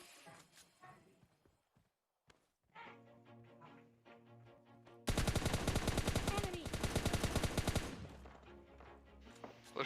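Gunfire in the PUBG Lite battle royale game: scattered shots at first, then a loud, rapid automatic burst lasting a few seconds, with in-game footsteps and someone talking over it.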